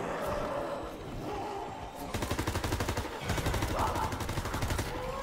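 Rapid automatic weapon fire in Call of Duty WWII Zombies comes in quick rhythmic bursts over the second half, following muffled game noise and a short stretch of voice.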